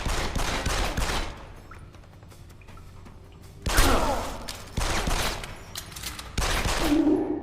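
Bursts of automatic gunfire in Deus Ex: Human Revolution, loud dense volleys crackling in several stretches with a short quieter gap between them, no talking.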